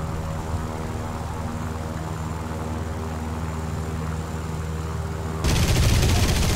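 A propeller aircraft drones steadily overhead in War Thunder, with a dense burst of machine-gun fire erupting loudly near the end, no voices heard.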